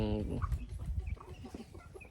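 Hens clucking close by in a short, busy run of calls, with low background murmur underneath.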